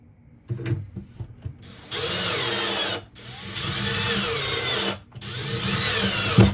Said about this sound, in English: we can go ahead and put the rest of the screws in